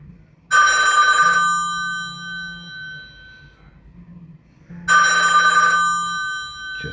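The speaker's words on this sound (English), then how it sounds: "I've hit decline, but it's still ringing for some reason." A phone rings with an incoming call in two loud, bright electronic bursts separated by a few seconds of quiet, with a faint low hum underneath.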